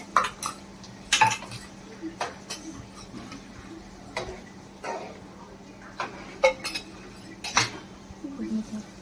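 Ginger garlic paste goes into a cooking pot for Malvani chicken, with sharp metallic clinks and taps of utensils against the pot recurring every second or so over a faint steady hum.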